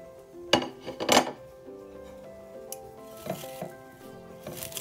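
Carrot, chili, garlic and onion tipped into cabbage in a metal pot, with a few sharp clattering knocks of utensil against pot and soft rustling of vegetables, close and alone.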